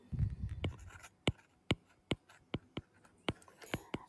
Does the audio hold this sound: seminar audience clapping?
no